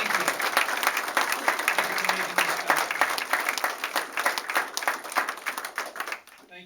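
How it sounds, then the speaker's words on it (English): A room of supporters at a South Bend Republican Party headquarters gives their county chairman a round of applause: brisk, dense clapping that holds strong, then thins and fades out near the end. "I want to ask for a round of applause for our county chairman"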